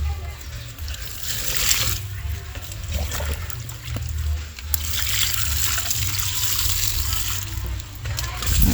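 Water poured into a layer of vermicompost made with earthworms, a steady broadband splashing and trickle running for several seconds, fairly close, with a low rumble underneath and occasional voices nearby.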